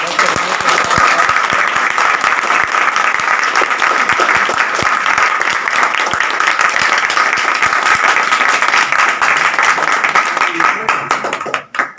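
Loud, sustained applause from a crowd at an outdoor political rally, dense clapping that runs continuously for about twelve seconds before cutting off abruptly at the end.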